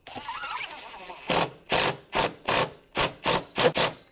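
Short bursts of a power drill driving metal screws into a gypsum roof deck, about eight separate whirring runs in a steady stop-start rhythm, close and fairly loud, after a few seconds of quieter scraping handling noise.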